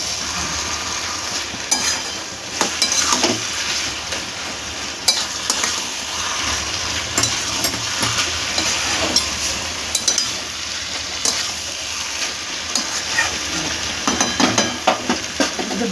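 Red amaranth greens fry in a pan with fried lentil dumplings and peanuts, stirred steadily: a continuous sizzle with scraping, clinking stirs repeating throughout, close and fairly loud, with no talking.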